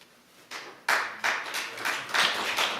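Scattered hand claps from a small group at a city planning commission meeting, irregular and fairly sparse, building slightly over a few seconds in a quiet room.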